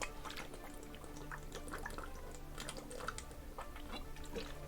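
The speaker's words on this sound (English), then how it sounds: "did you hear me drink?" Drinking water close to a streamer's microphone: soft gulps, wet mouth clicks and small drips, quiet but near, over constant low background noise with no talking.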